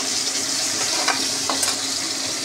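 Red amaranth greens sizzle in hot oil in a frying pan, a continuous close crackling hiss broken by two or three faint stirring scrapes, with no voices.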